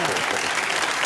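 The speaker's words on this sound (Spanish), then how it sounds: "Aplaudir ahora otra vez, venga." A TV studio audience claps in a brief, dense burst of applause, steady and close.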